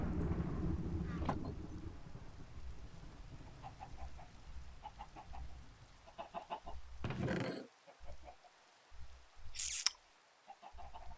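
Chickens cluck in the SkyFactory video game, with a few short, faint, scattered clucks over a steady low background hum and some brief electronic noises.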